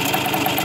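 An old engine idles with a steady, rapid pulsing rumble and a slight knocking beat, close and loud with no voices over it.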